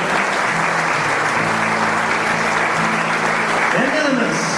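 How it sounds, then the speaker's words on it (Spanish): Church congregation applauding the young people, dense continuous clapping filling the room loudly throughout, with a faint voice and a brief tone underneath. "Dales un aplauso, claro."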